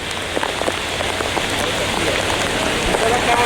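Extreme heavy rain pours down in Mumbai, a dense, loud and unbroken hiss of drops hitting surfaces close by, with a voice faintly present beneath the roar.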